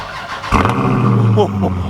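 A truck engine cranks and catches after a short quiet moment, then revs loudly up and settles into a throaty idle close by, with a voice briefly over it.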